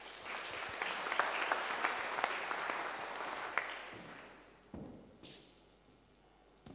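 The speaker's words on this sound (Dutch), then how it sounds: "ik vraag u applaus voor Jean-Pierre Bienfait" Audience applause at a business conference as the CEO of Makro Nederland is welcomed to the stage, a steady, moderately distant sustained clapping that fades out over several seconds, followed by a few thumps.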